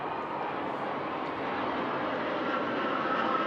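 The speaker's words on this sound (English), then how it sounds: "we have the planes from our military flying over us right here" Military aircraft fly overhead above a high school soccer game at the Virginia Beach Sportsplex Stadium, a steady, loud broadband roar that holds evenly for the whole stretch with no talk.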